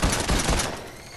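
Gunfire in a video game, a burst of overlapping shots rattling loudly for about a second and then fading, with no talk over it.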